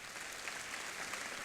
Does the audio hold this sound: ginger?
no